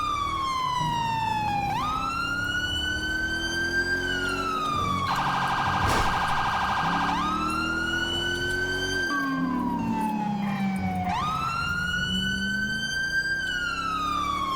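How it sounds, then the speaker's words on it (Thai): Police car siren in GTA 5, wailing continuously and sweeping up and down in repeated cycles, with a brief stretch of rapid yelp in the middle, loud and close over a low engine rumble. "กว่าจะเปิดไซเรนได้ชิบหาย"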